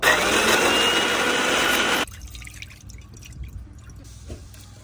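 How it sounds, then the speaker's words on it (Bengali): A blender runs loud and harsh for about two seconds, grinding crisply fried ingredients with no water added, then cuts off abruptly and leaves faint room noise. "বন্ধুরা পানি ছাড়াই ব্লেন্ডার করে নেব।"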